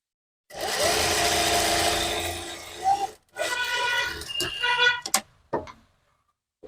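A sewing machine stitches a dhoti salwar, a close steady whirring run of about two and a half seconds, then shorter bursts of stitching with pauses and clicks.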